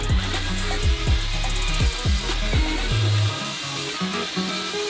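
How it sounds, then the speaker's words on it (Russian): Self-tapping screws are driven into a box with a power screwdriver, several short whirring bursts with sliding pitch, about one per second, loud and close. "Скручиваем его с помощью саморезов."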